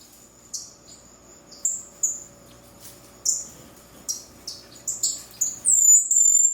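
Repeated high, thin chirps from strawberry finch chicks in an aviary, scattered then bunching into a quick run of calls near the end, over a faint steady hum.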